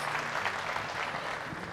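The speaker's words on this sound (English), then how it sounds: "How about a nice round of applause and a warm welcome for Mr. Josh Nichol" A short burst of steady applause from a small crowd at the Saskatchewan Equine Expo, clapping evenly throughout.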